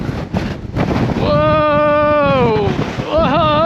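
Strong wind gusts batter the microphone on the thin, rocky summit of Mt. Katahdin, a loud, continuous roar. A sustained voice-like cry or whistling tone rises over it midway and again near the end.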